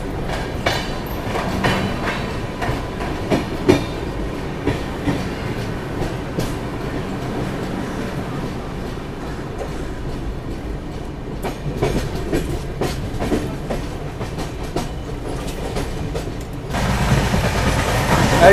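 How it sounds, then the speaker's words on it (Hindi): CR Rajdhani Express (22221 Mumbai CSMT–Hazrat Nizamuddin) running at speed after leaving Kalyan Junction, a steady loud rumble of wheels and carriages with clickety-clack rhythm throughout, heard from on board, no talking. "चलिए निकल गई अपनी CR राजधानी जो है कल्याण जंक्शन से"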